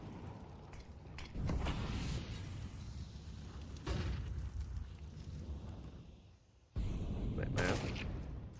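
Bursts of gunfire ring out in a professional Counter-Strike match between fnatic and MIBR at PGL Masters Bucharest 2025, with sharp shots and rapid volleys separated by steady game ambience and a short drop in level.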